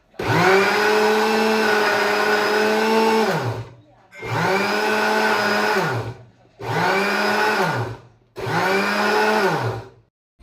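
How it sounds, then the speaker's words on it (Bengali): Kitchen blender pureeing aloe vera gel in pulse mode: four loud, steady whirring motor bursts of about two to three seconds each, separated by brief silent pauses. "তারপর 2 ভাগে ভাগ করে এটাকে ব্লেন্ড করে নেব"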